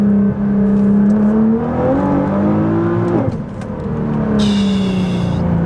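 Nissan GT-R with a straight-pipe exhaust accelerating hard through the gears at full power, a loud, rising engine roar with a brief dip at a gear change before climbing again, up close with no talk.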